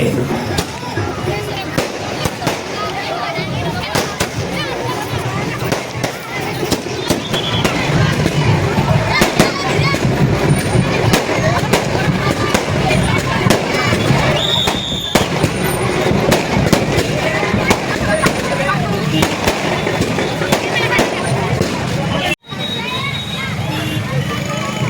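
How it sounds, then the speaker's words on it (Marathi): Continuous crackling and popping of fireworks at a Shivjayanti celebration in Gadhinglaj, dense and loud throughout, with a crowd's babble underneath. "निम्नलिखित आतिशबाजी होता है"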